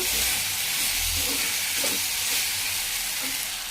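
Okra curry frying and being stirred in a pan, a steady close hiss and sizzle with faint scraping of the spoon throughout, no talking.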